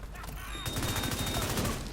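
Automatic turret in a video game firing a fast, steady stream of close, loud shots that starts abruptly after a brief lead-in and continues to the end, with faint talk underneath.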